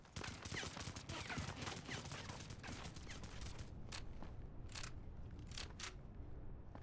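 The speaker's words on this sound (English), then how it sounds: "Oh, looks like Asuka knew that someone was shooting at him." Sustained crackling gunfire in Go4MC5, an iOS mobile shooter game, a dense volley of shots for several seconds that thins into a few separate sharp bursts near the end.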